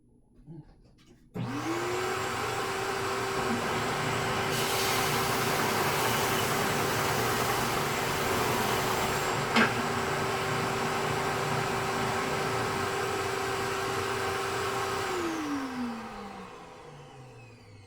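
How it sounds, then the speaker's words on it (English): Power sander flattening a wood block for a bandsaw box drawer divider: the motor spins up and holds a loud steady whirring drone with a harsh abrasive hiss for about fourteen seconds, then winds down. "So I'm just going to run over to the sander."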